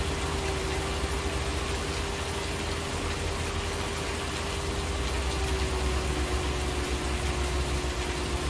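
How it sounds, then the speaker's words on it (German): Steady rainfall in the farming game Landwirtschafts-Simulator 19, a continuous even hiss of rain with a low engine-like hum beneath, constant throughout with no talking. "Wow, Regen."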